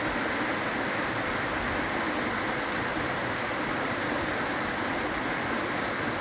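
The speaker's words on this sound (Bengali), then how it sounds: "কয়েকদিন ধরে গুড়ি গুড়ি বৃষ্টি হচ্ছে।" Light drizzle falls steadily outdoors, a soft, even hiss of fine rain spread across the whole stretch with no breaks and no voices.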